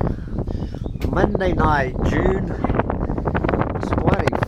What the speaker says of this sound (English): It is a fine, windy summer evening.